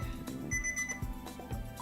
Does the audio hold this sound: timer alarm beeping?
yes